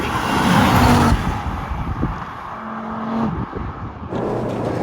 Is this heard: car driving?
yes